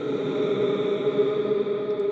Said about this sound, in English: mostly what you heard was the reverb itself.